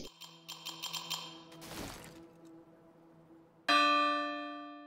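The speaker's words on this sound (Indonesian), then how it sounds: "Terdengar bunyi lonceng, itu tandanya teraktivasi." A series of clacks and a rustle lead to a soft tone, then a single bright bell strike rings out and slowly fades, signaling activation in the video game The Division 2.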